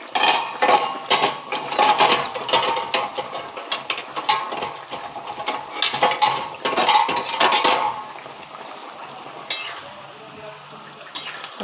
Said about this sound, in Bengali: এবার এতে একটু মাছগুলো দিয়ে দিই।